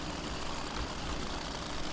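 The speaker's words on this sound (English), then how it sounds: "I really don't like this engine sound at all. I might sell this tractor in the upcoming future." A tractor engine idles in Farming Simulator 2013, a steady low rumbling drone that holds evenly throughout without revving, heard alone at a fairly quiet level.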